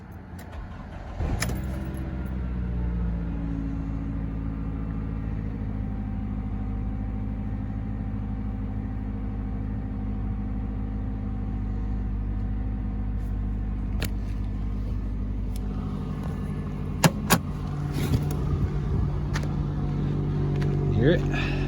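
A high-mileage 2011 Toyota Camry with about 367,740 miles starts after a sharp crank and settles into a steady low idle rumble. Keys jingle briefly near the end.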